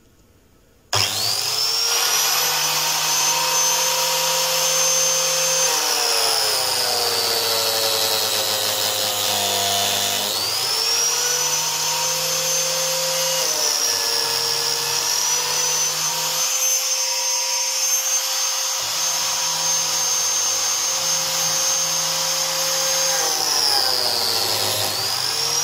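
A Makita Lamello biscuit joiner runs steadily at close range while cutting into wood, making a loud, sustained whine that dips and recovers as the blade bites, with a short gap partway through.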